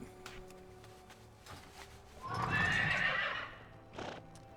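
A Sapphire Vorquin mount in a video game gives a loud, bright neighing whinny that swells and fades, with faint hoof clip-clops and a short snort afterward.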